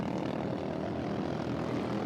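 Sprint 390 racing karts roar up the back straight of a circuit during a race, a loud, steady engine drone with no break.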